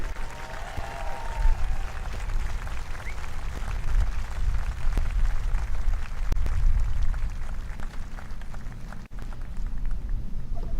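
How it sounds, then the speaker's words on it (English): Outdoor audience applause for a color guard team at the Army and Navy Academy Veterans Day Parade, a steady, dense wash of clapping over a low rumble that runs the whole stretch without letting up. "please join me in a round of applause to show our appreciation for our color guard team"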